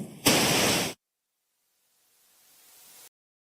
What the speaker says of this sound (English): So some weird white noise is going to come on.